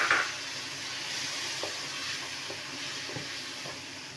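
Vinegar poured over vegetables frying in a pan for chicken spaghetti, giving a soft, even sizzle with a few faint stirring clicks, heard up close and steady throughout.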